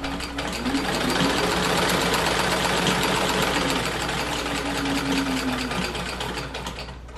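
A domestic sewing machine runs steadily for about seven seconds, a continuous buzzing mechanical whir with fine rapid needle clatter, close and fairly loud, holding an even pace with no talk over it.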